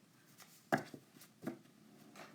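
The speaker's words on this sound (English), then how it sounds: "this one I need to properly shuffle" Tarot cards shuffled by hand, heard as two short papery bursts about a second apart over a quiet room background.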